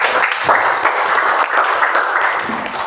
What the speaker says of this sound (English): Give a huge round of applause for ma'am